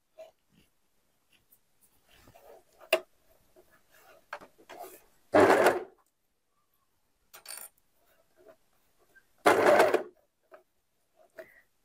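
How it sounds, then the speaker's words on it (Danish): A sewing machine stitching around the ribbed edge of a handmade baby jumpsuit, two short loud whirring runs of stitching separated by quiet fabric handling, small clicks and soft rustles. "så syr jeg en tur rundt herinde i ribkanten, hvor jeg strækker i ribkanten"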